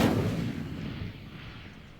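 Incendio fire spell cast in Hogwarts Legacy: a sudden booming burst with a deep rumbling whoosh that swells at once and then fades away over about two seconds, loud and alone.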